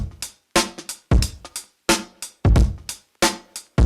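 Drum loop run through the Taper plugin's Bim Bap preset: punchy, crunchy hits in a choppy, gated pattern, with sharp bursts separated by short silences and heavy low thump under bright transients.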